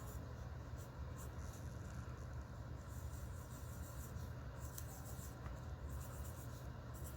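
A pen scratches across paper while drawing a butterfly, a quiet, continuous scribbling with short strokes and faint scraping bursts, close and soft.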